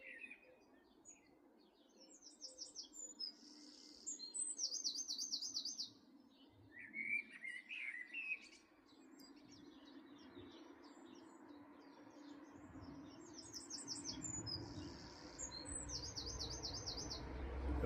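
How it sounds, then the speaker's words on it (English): Several small garden songbirds, including a blue tit and a robin, sing repeated bright trilling phrases from nearby, alone over a soft outdoor hush with low background rumble. "But listen to this bird life."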